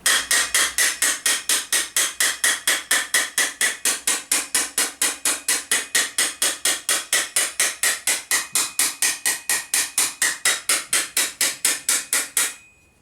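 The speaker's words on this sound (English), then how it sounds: "Take the slightly flatter hammer now because I want to work that over." Flatter hammer repeatedly tapping a medieval armour plate edge held against an anvil, a fast, even, ringing metallic beat of around forty close strikes with no talking.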